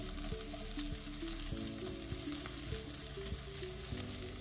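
Parsnips and carrots sizzle steadily in a sauté pan, a continuous crackling fry running the whole time with soft background music underneath and no talking.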